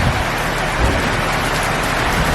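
Heavy rain pours in a dense, loud, continuous hiss and patter close by, with a low rumble underneath and no talk.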